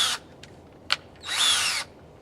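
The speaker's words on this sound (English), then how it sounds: "This is what I'm going to drill with, I'm going to drill this into the wood." A power drill drives a screw into wood for a table build. A short burst and a couple of clicks come first, then a steady whirring run of about half a second, close and clear.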